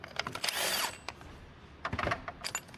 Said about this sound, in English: Now we're going to go ahead and take this 13 millimeter bolt here off